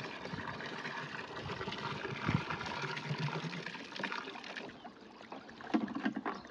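Three litres of liquid biostimulant poured into a fertilizer solution for onions: a steady, close splashing gush of liquid with some sloshing, easing off toward the end.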